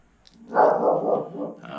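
A single drawn-out dog bark or growling woof, close and fairly loud, rising quickly then trailing off.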